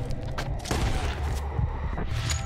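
Gunfire rattles in Red Dead Redemption 2 during a fight with enemies up in trees, dense overlapping shots and booms filling the whole short stretch with no talking.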